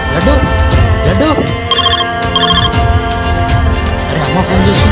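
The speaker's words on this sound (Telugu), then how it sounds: "అరే అమ్మ ఫోన్ చేస్తుందిరా." A mobile phone rings with the mother calling, a bright repeating electronic ringtone in two short bursts over continuous background music.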